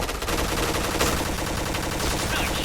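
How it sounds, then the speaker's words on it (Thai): Rapid automatic fire from the PINK DRAGON special gun in a shooting video game, a dense, continuous stream of shots packed tightly together, loud and unbroken across the whole stretch with no talk. "ตัวกระสุนมันลั่นเร็วเกิน มันทำให้เราคุมคุมไม่ได้ปืนมัน"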